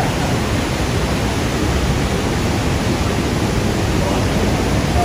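Fast-flowing river water in a hill area near Odawara, Japan, a loud, steady broadband rush that holds constant throughout with no pauses or talk.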